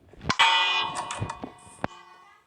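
A bell in the Minecraft video game, rung by a button contraption, sounds as a few bright clanging strikes that ring out and decay quickly, fairly loud and with no talk over them.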